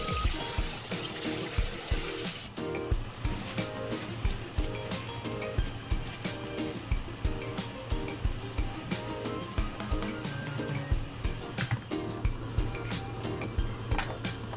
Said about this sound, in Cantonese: 揾水喉水沖一沖佢，沖返凍佢